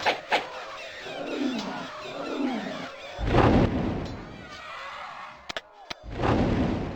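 Artillery fires on command in Warhammer: Shadow of the Horned Rat, with two heavy booming blasts and a couple of sharp pops between them, while a voice speaks over a low battlefield rumble.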